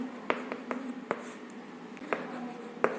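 Chalk or marker writing on a classroom board during a physics lesson: a few faint, separate taps and short strokes spaced irregularly over a low steady hum, with no talk.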